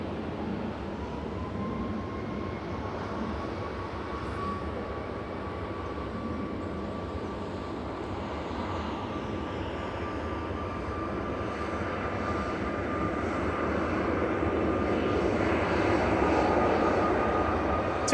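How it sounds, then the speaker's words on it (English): A TUI Boeing 737 Max 8 jet departs Manchester Airport, its engines a broad, steady roar with a thin whine that swells slowly as the aircraft climbs away, with no other sound over it. "TUI flight 2652 to Reus departing. This is G-Tuma, TUMA, that's Max 8."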